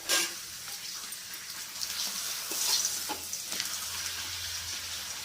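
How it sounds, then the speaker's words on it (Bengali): Papad frying in hot oil for a khichdi meal, a steady bright sizzle with soft crackles and occasional stirring scrapes, close and continuous with no voices. "এই তেলেই পাঁপড়গুলো ভেজে নেব।"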